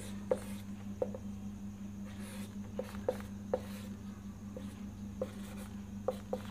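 A pen scratches across paper while writing out a simplified chemical equilibrium expression relating Kp and Kc during a lecture. Short scratchy strokes come in small irregular bursts, faint and close, over a steady low electrical hum.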